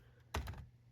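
A single short keystroke clack on a computer keyboard, close and brief against a quiet room background.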